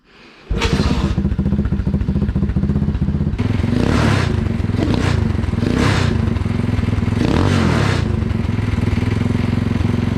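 A motor revs up during a clutch test, a loud, steady, close engine drone with several surges of rising revs and rattling noise layered on top.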